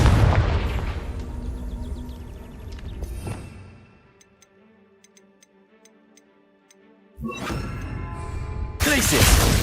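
A Confringo explosive spell going off in Hogwarts Legacy on Xbox Series X: rumbling booms and crackle give way to quiet ticking, then a sudden loud explosive burst erupts with shattering debris toward the end.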